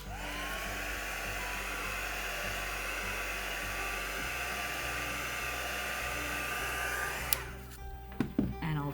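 A heat gun or hair dryer blows steadily close by to warm masking tape on a watercolour painting, a continuous airy roar that cuts off toward the end, followed by a few light handling clicks.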